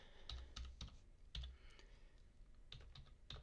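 A GitHub username being typed on a computer keyboard: quiet, close key clicks in short irregular bursts, a cluster of quick taps, a pause, then another run of keystrokes, with no talking.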